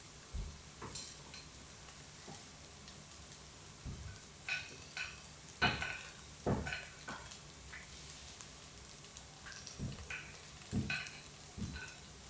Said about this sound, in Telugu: ఇంకొద్దిసేపు వేయించి ఆఫ్ చేసుకుంటాం.